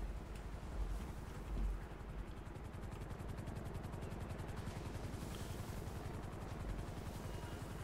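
A helicopter arrives in the GTA V video game, its rapid rotor chop pulsing steadily and fairly loud throughout, with a low engine rumble underneath and no talk.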